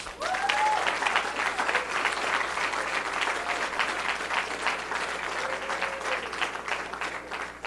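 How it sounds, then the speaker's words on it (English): Crowd at a 2018 governor's election victory speech applauding loudly and continuously, sustained dense clapping with faint cheers mixed in. "Please give them a big round of applause"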